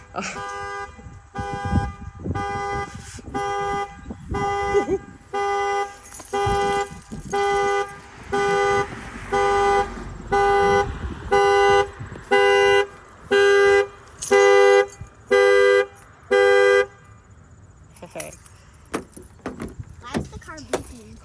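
A car alarm blares in a steady pulsing pattern of loud, evenly spaced horn-like tones, set off when someone tried to get out of a locked car left running with the AC on, then it stops and faint voices follow.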